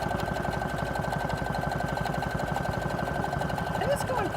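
A sewing machine runs a zigzag stitch over elastic, a fast, even mechanical chatter with a steady hum that holds close and constant throughout.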